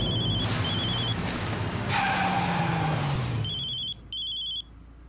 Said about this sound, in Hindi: दुग्गल साहब क्यों फोन कर रहे हैं?